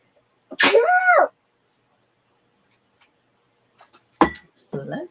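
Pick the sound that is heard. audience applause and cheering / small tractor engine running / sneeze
sneeze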